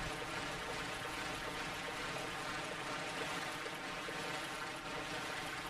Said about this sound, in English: Slowly trudging through the water.